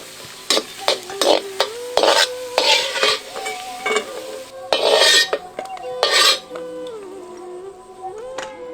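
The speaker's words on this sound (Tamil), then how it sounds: "ஒரு தேக்கரண்டி நெய்யில 15 முந்திரி 15 திராட்சை ரெண்டையும் நல்லா வறுத்து எடுத்து வச்சிருவோம்" Cashews and raisins frying in a spoonful of ghee, with a spoon repeatedly scraping and stirring against the pan in irregular bursts over a steady close sizzle, no voices.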